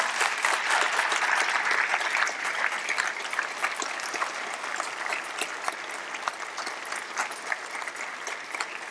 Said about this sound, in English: I want you to give us a hearty round of applause to the faculty, staff, and administration for the good work that they've done